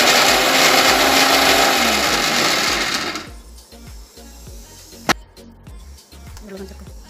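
A kitchen mixer grinder coarsely crushes ingredients for a Malabari jackfruit curry, a loud whirring motor for about three seconds that then stops, leaving quieter rattling and clicks with a sharp knock near the end.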